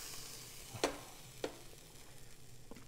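Hot pan just used for searing beef short ribs gives off a faint, steady sizzle, broken by two sharp clicks of cookware, then a softer tap near the end.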